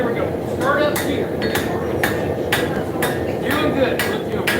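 Rhythmic hammer blows ring out on a horseshoe being forged, sharp clanging metal strikes repeating roughly every half second over a low background hum.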